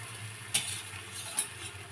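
A rolled aloo paratha laid on a hot oiled tawa makes a soft, steady sizzle, with two brief clinks of utensil on the pan, faint and with no voices.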